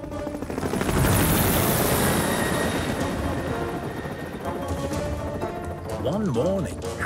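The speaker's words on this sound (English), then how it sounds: "Harold the helicopter was rescuing some climbers from the rocks near Callan Castle." A cartoon helicopter flies overhead with a loud, continuous rotor whir and engine drone, joined near the end by a sweeping, wavering whistle-like tone.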